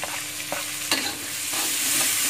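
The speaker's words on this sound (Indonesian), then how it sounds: "Kita aduk bawang bombaynya. Setelah bawang bombaynya halus, kita masukkan bawang putih dan bawang merahnya." A spoon stirs onion, garlic and shallots frying in a pan, steady sizzling with a few sharp scrape clicks against the pan, close and unaccompanied by talk.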